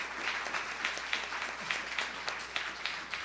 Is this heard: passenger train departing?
no